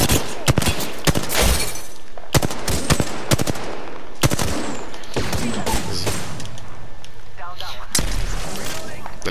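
Rapid automatic gunfire and sharp single shots from an Apex Legends firefight crackle in dense bursts throughout, loud and close, with brief gaps between volleys and faint in-game chatter underneath.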